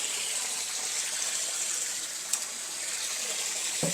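Water gushes steadily while khao hang, steamed, sun-dried and hulled rice, is washed. The close, continuous pour has one small splash partway through and no talking.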